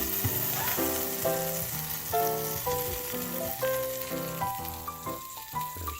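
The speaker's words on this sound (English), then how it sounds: "Ooh, sizzling." Hot dogs sizzle steadily in an air fryer, a soft constant hiss sitting beneath a bright melodic music track.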